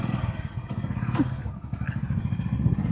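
Hero Splendor motorcycle engine running at steady low revs with a rhythmic putter, close by, while someone talks over it.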